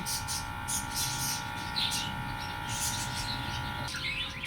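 Pet lovebirds kept in a home aviary full of nests chirp in quick, high-pitched bursts, fairly close, over a steady background hum.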